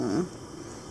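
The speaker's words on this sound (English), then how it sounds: "That was a yawn." A small voiced breathy sound with a rising-falling pitch, like an infant's yawn, close up and brief, then fading into soft room noise.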